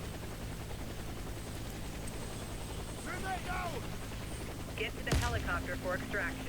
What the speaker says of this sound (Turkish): Çok güzel helikopter geldi.